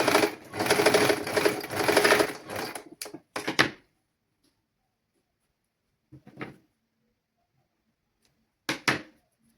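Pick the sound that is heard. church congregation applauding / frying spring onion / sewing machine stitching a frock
sewing machine stitching a frock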